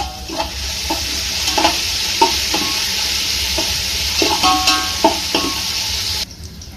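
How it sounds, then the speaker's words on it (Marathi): Green chillies, curry leaves and garlic frying in hot oil with mustard and cumin seeds: a loud, steady sizzle with intermittent spatula taps and stirring scrapes, ending suddenly. "हा, आता मिरच्या चांगल्यापैकी फ्राय झाल्या, पाहू शकता."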